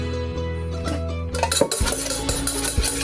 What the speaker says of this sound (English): I have my egg, so I'm going to add just some very little sugar, and I'm going to mix it